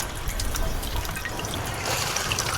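Water runs and trickles steadily from a sink tap while vegetables are washed at a beach campsite, a continuous close splashing hiss with small drips.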